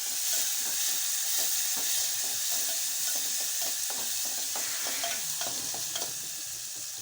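Ripe tomatoes in a tempering sizzling in a pan for a horse gram curry, a steady bright frying hiss with repeated stirring and scraping taps, close and continuous.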